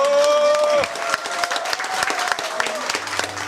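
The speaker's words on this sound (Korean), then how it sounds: "여러분 뜨거운 박수로 다시 한번" A poetry recital audience breaks into applause as a sustained note fades, the clapping continuing steadily at moderate distance, with a voice briefly heard at the end.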